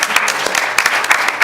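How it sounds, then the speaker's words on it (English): Loud, close audience applause at a civil rights summit: many hands clapping in a thick, crisp patter with distinct sharp claps popping out, continuous and energetic with no one speaking over it. "well, I take that applause for Rothstein."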